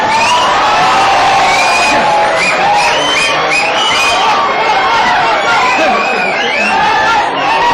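A stage audience at the Atal Geet Ganga event cheers actor Rajpal Yadav, a loud, dense wall of whoops, shouts and crowd roar that stays strong and continuous from start to finish, with voices mixed in.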